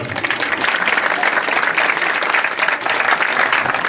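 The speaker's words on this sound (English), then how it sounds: "he deserves applause" Applause at an athletic hall of fame induction ceremony for a JV coach, a crowd clapping steadily and fairly loudly for nearly four seconds without talk.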